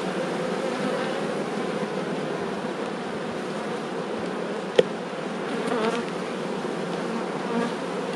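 Honeybees at an open hive during the summer honey harvest make a dense, continuous buzzing that stays close and steady throughout, with one sharp click partway through.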